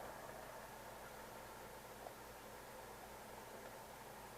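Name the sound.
static from a 1975-1977 GM Delco car radio on AM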